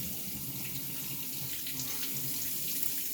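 Cold water runs steadily from a kitchen faucet into a sink to wash fruit for a New Year charcuterie board, a constant close splashing stream with no talk.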